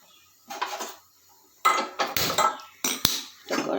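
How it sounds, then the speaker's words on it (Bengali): A metal wok (kadai) set onto a gas stove: a few separate clanks and knocks of cookware, with sharp metallic hits and short pauses between them, close by with no talk. "এটা কড়াই বসিয়ে দিলাম,"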